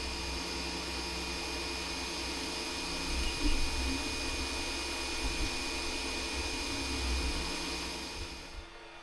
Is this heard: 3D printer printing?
yes